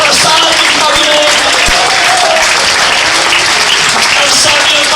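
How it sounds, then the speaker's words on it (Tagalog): A church congregation claps steadily and loudly for several seconds, a dense continuous wash of applause filling the room, with a voice faintly present underneath. "Palakpakan na natin ang ating Panginoon"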